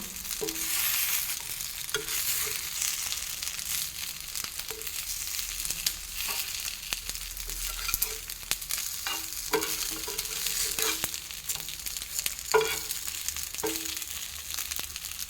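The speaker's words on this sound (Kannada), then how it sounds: "ಪುನಃ ಇದನ್ನು ತಿರುಗಿಸ್ತಾ ಇದ್ದೇನೆ." Pathrode, a spiced colocasia-leaf roll, sizzles and fries steadily in a pan, with a few scraping stirs and soft knocks as the pieces are turned, close and moderately loud with no voices.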